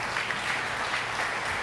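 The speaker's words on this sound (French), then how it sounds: "Ça mérite une main d'applaudissement" An audience gives a short, even round of applause at a community charity event, moderate in level and with no talking over it.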